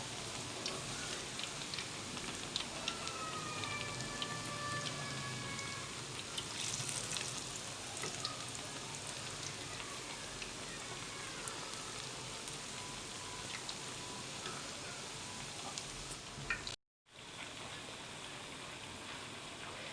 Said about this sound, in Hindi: देखिए हमारे पकोड़े जो हैं ये तकरीबन फ्राई हो गए हैं।